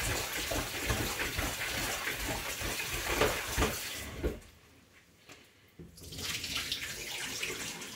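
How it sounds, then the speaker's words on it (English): Fruit (pineapple, banana and apple) rinsed under a running kitchen tap, a steady loud gush of water that briefly cuts off midway before flowing again. "See, I'm gonna rinse them off."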